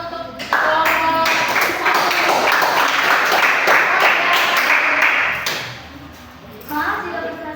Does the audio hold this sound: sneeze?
no